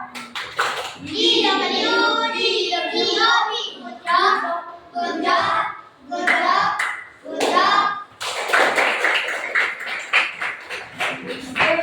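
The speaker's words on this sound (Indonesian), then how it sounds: "kita kasih tepuk gocap" A class of students at a school lesson claps a rhythmic 'tepuk gocap' pattern in bursts separated by short pauses, with children's voices calling along between the clapping.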